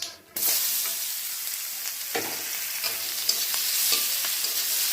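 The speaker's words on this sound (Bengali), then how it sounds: "পেঁয়াজটা দিয়ে নাড়াচাড়া করবো" Sliced onion hits hot oil already seasoned with nigella seeds and dried red chillies for a fish curry, then fries with a steady, close sizzle while a spatula scrapes and stirs the pan in soft irregular strokes.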